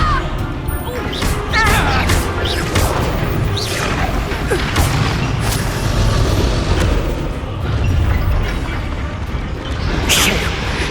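A Confringo blasting curse going off in Hogwarts Legacy amid a busy fight, heavy booming impacts and crashes repeating over a dense, loud battle din with voices mixed in.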